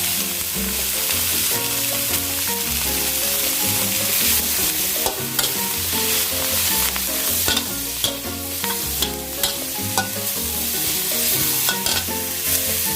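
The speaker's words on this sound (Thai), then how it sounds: "กระเทียมที่ปูเหลืองแล้วนะคะ เดี๋ยวจะไหม้ทั้งหมด หอมหัวใหญ่นะคะใส่ลงไปเลย" Garlic and onion stir-frying in a hot pan for a black-pepper beef dish: a loud, continuous sizzle with sharp stirring clatters, over steady background music.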